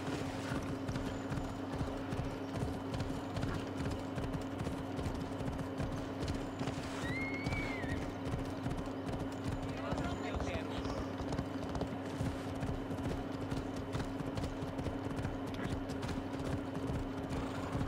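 Steady rhythmic hoofbeats of a galloping horse in Assassin's Creed Odyssey, with a brief whinny partway through, under a constant low hum and occasional speech.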